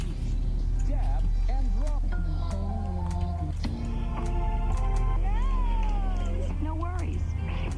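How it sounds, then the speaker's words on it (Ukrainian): A cartoonish cat meows several times in the video game Subliminal amid busy game music and effects, with a voice talking over it. "Тут котик є, прикиньте."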